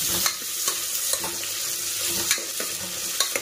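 Onion frying in hot oil for a festive Ugadi meal, a steady close sizzle with light stirring scrapes and small crackles throughout, no talking.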